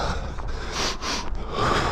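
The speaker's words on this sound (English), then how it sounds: "Double deep breaths." Heavy, deep breaths from a runner catching his breath mid-run in Tokyo, a few close, rough inhales and exhales with a snorting edge, loud against faint outdoor noise.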